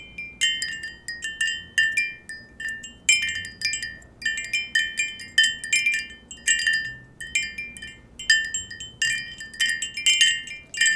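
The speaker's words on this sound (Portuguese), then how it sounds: "esse som que você está ouvindo aí são sons de pequenos sinos tocando" Small, bright wind chimes ring in repeated clusters of tinkling tones, overlapping and fading, steady throughout with a faint low background rumble.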